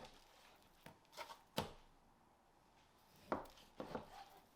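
A knife slicing eye of round beef into thick steaks on a cutting board, with a few separate soft cutting strokes and thuds spaced across a quiet, near background, no talking.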